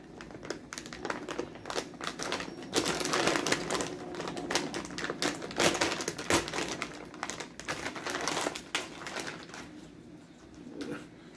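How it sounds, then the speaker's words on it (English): A bag of jalapeno homestyle pretzel sticks being torn open and handled, giving close crinkling and rustling plastic with sharp crackles that fade near the end, no talk. "As soon as I opened the bag,"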